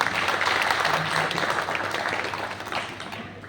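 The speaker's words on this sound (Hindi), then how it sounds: "मैं चाहता हूं कि इस नौजवान के लिए भी भरपूर तालियां बजाएं।" An audience at a Hindi poetry gathering claps for a young poet, a fairly close, dense burst of applause that gradually thins out.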